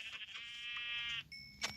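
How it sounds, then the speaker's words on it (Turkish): A sheep in Minecraft bleats in a short wavering cry, followed by a second brief higher bleat, heard close and fairly quiet with no talk. "Aha koyun. Bak iki dakikada koyun bulduk."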